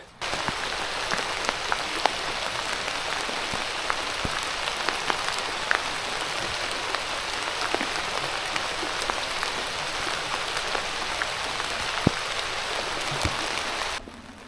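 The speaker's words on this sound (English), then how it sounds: "it's continuing to pour down rain" Heavy rain pours steadily on a truck camp in a remote Pennsylvania rainstorm, a dense, close, continuous patter with scattered louder drops striking the surface, lasting unbroken until it cuts off near the end.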